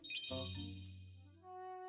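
A phone rings with a bright jingling chime: a short high tinkling burst followed by sustained tonal ringing notes that fade slightly and then hold steady, close and clear, with no voices.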